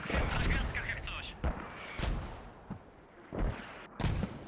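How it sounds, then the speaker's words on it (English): Defensive mortar fire in the military shooter Squad thumps out as repeated heavy booms, roughly one every second or so, under steady radio chatter from players. "Defensive mortars coming out."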